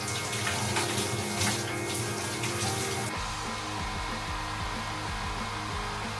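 A hair dryer blows steadily while drying hair in a quiet morning room, a continuous loud airy roar that changes tone partway through, as if the speed or angle shifts.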